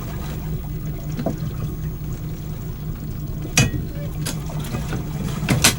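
Outboard motor on a halibut fishing boat running steadily on open water, a constant low drone with a few sharp knocks and splashes cutting through.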